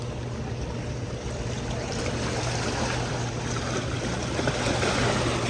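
Sea waves splash and wash continuously in a dense, steady roar with no pauses, close by and fairly loud.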